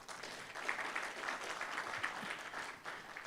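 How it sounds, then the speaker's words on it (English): An audience at an India–Singapore dispute resolution event claps in a brief, moderate burst of applause. It holds fairly steady for a few seconds and comes without any talking. "So big round of applause for ICA."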